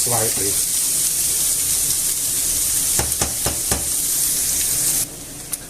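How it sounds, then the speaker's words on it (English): Onion and garlic brown in a hot pan, giving a continuous close sizzle. A few sharp stirring clatters come near the end, and the sizzle drops slightly just before it finishes. "onion and garlic, and we'll brown this off"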